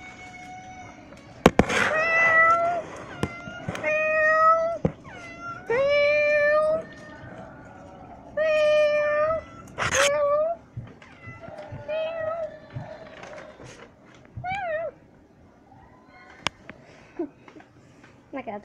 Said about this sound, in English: That cat likes meowing.